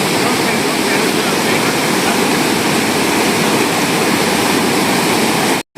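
Fast-flowing water of the Penna river near Ahobilam, a loud, constant broadband rush close by, unbroken until it cuts off abruptly at the very end.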